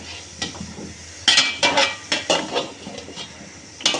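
Spoon stirring bottle gourd and spices in a cooking pot, a series of sharp scraping clatters and metallic knocks in an irregular rhythm, close and fairly quiet, with no talk.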